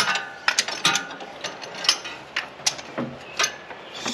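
A ratchet wrench snugs a bolt on a Jeep TJ engine, close by, with a run of quick, uneven clicking bursts of pawl ratcheting and brief pauses between strokes.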